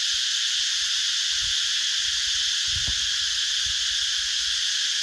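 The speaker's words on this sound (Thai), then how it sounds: "ตอนนี้นี่เต็มแต่เสียงจักจั่นเฮาได้ยินมันฮ้องดังทั่วป่าเลย" Cicadas call loudly throughout a forest near a cornfield, a constant shrill, pulsing drone that fills the air without pause, with faint low rustles and thumps beneath it.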